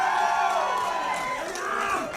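A wrestling arena crowd roars and cheers for Sammy Six Guns, a dense, steady wall of voices with rising whoops throughout.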